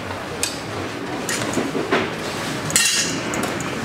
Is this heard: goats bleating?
no